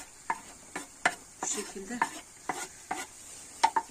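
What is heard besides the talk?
goose fat melting and sizzling in a pan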